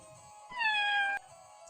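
A cat gives a single clear meow, rising then slightly falling, about half a second long and close to the listener, set against a quiet background.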